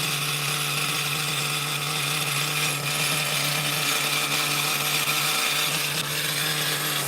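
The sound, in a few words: Novarossi nitro engine running in an Ofna Jammin RC car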